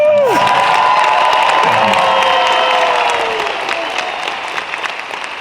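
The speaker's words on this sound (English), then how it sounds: "One more round of applause." Loud applause and cheering from a large crowd at a convention closing ceremony, with whoops and shouts over dense clapping that gradually thins out toward the end.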